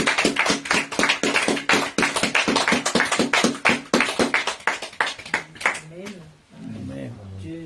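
A church congregation claps in a fast, steady rhythm for about six seconds, loud and close, before it stops and a voice begins speaking.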